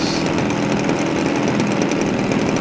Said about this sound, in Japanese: エンジンは DL40cc のボクサータイプのツインエンジン、